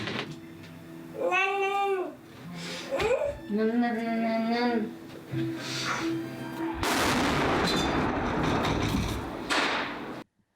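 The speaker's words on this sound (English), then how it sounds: "The sound of a bomb." A cat meows twice, then a loud booming blast erupts with a long rumbling roar that gradually trails off before cutting out.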